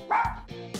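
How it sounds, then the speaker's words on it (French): Small dog barks a couple of times indoors, sharp yips close by in a quiet room, with a short whimpering tail between barks. "J'ai entendu aboyer."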